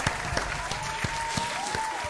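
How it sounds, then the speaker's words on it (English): Applause breaking out in a room, a steady wash of clapping with a few sharper claps standing out, moderately loud and fairly close, with no voices on top. "Give her a round of applause"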